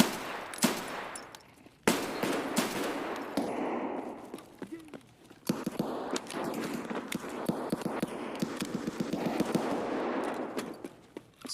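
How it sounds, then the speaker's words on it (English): Pistol gunfight in Escape from Tarkov, heard from a distance: sharp, irregular shots and bursts cracking at intervals amid rustling footsteps and movement, with talking in between. "Sounds like a pistol battle."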